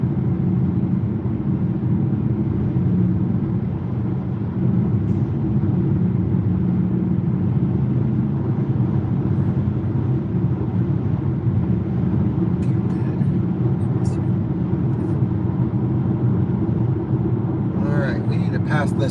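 A Volvo XC40 Recharge Twin Ultimate electric SUV cruises on a highway, a steady loud road and tire rumble with wind noise throughout, no engine note, and a few faint clicks near the end.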